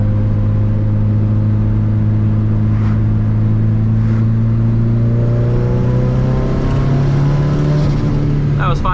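Built race car engine revving under turbo boost, a loud, close, continuous drone whose pitch climbs steadily as the revs build toward the end.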